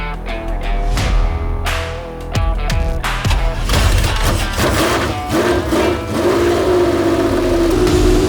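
Ferrari 512 M race car engine running loud and close throughout, with revving surges and a rising, steady drone as the car pulls away.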